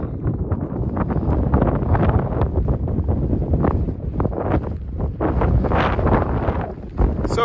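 Gusty wind buffets the microphone on the Middle Teton summit in Wyoming, roaring and rumbling loudly and unevenly throughout with no talk.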